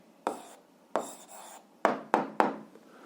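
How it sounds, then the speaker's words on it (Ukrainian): A pen scratches an algebra answer onto paper in five short, close strokes with brief gaps, soft and dry against a quiet room. "записуємо відповідь, пишемо відповідь"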